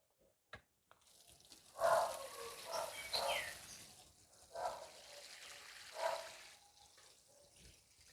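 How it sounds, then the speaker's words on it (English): Water pouring and trickling onto freshly planted okra seedlings in a Trinidad garden, in several uneven splashy bursts over about eight seconds, nearby, with faint birds in the background. "you'll water in your seedlings"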